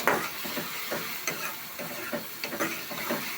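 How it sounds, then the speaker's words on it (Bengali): Onions frying in a pan with salt, stirred with a utensil so there are repeated scraping strokes over a steady sizzle, close and moderately loud, with no voices. "এখন আমি একটু ভালো করে পেঁয়াজগুলো ভাজা ভাজা করব।"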